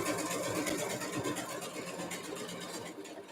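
Sewing machine stitching back over a thick jeans hem while making ultra high-waisted jeans, a steady continuous motor whir with rapid needle rhythm, close and fairly loud throughout.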